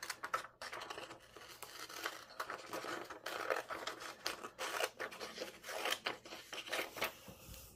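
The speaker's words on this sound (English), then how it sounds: "Then open it up, and we're going to cut it in half." Scissors cut a sheet of folded paper in half, a close run of crisp snipping and rustling strokes in irregular bursts, with the paper crinkling between cuts and no talking.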